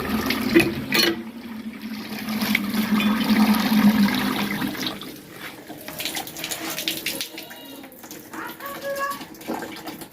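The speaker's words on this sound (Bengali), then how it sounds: "তো ধোয়া দেওয়ার পরে আবার সুন্দর করে ধুয়ে নিচ্ছি।" Running water splashes steadily while food is rinsed clean by hand in a home kitchen, a continuous close wash with brief louder spurts near the start and a softer trickle later on.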